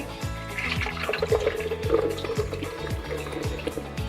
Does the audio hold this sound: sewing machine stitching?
no